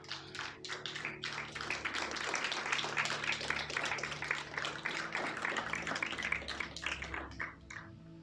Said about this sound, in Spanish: ¿Alguien le podrá dar un aplauso a Dios?